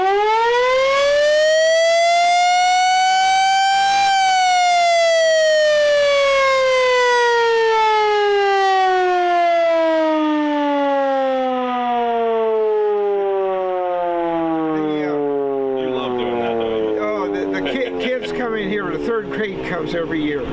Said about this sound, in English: was a siren.